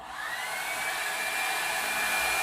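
A Revlon Salon One Step hair dryer volumizer blows a steady, moderate airy whir with a faint motor whine, running constantly at its low setting, close by and without talk.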